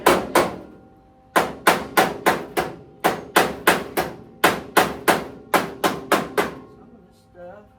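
Repeated hammer strikes ring out in quick bursts of three to five blows with short pauses between, loud and close, with no talking.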